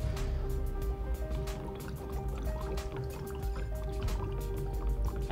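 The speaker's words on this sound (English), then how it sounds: "I'm bubbling the ethyne gas through the potassium permanganate" Ethyne gas bubbles through potassium permanganate solution in a lab, a faint continuous train of small pops and gurgles with a steady hum beneath.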